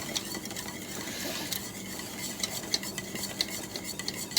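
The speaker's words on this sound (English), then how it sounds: "I'll go ahead and continue stirring this a little bit." Hot honey caramel mixture being stirred in a pot just off the burner, a soft hiss with faint scraping and small utensil ticks, close and quiet with no voices.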